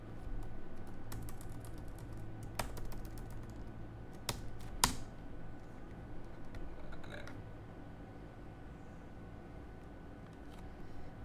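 Computer keyboard typing in quick irregular bursts of close, crisp key clicks, a few louder taps mid-way, then trailing off into quieter room noise.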